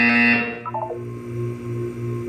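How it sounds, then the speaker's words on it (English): A short electronic buzzer sounds once in the video game Portal 2, a bright tone with a quick stepped pitch drop, followed by low ambient hum. "When you hear the buzzer, look down at the floor."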